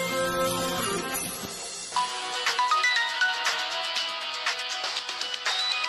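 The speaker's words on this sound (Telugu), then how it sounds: "రాజేష్ ఫోన్ చేస్తున్నాడు." An incoming call sets off a melodic phone ringtone that plays its repeating tune clearly for several seconds, with no talking over it.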